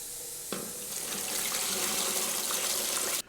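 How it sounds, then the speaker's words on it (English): Tap water gushes into a bucket to make turkey brine, a steady broad rush starting abruptly, holding for nearly three seconds, then cutting off sharply. "Now we're going to put 2 gallons of water in here and 2 cups of brine."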